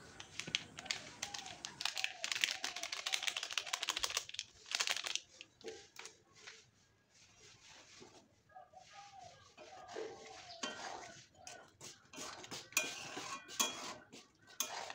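Ghugni gravy gets a final stir in a pan, with clinking and tapping of a metal spoon against cookware in irregular bursts, fairly faint, with birds chirping in the background and quiet gaps between strokes.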